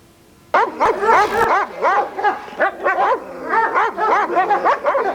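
A protection-trained dog barks loudly and close by in rapid, repeated bursts, with a few yips and whimpering notes mixed in, carrying on almost without pause for several seconds.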